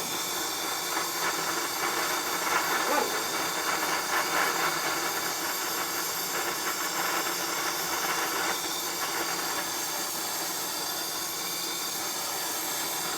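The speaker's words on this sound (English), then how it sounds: "We are melting the cheese with our searzall" A Searzall propane torch attachment roars with a steady, loud broadband hiss as it melts cheese on top of Cajun homemade chili, holding an even blast with no talk throughout.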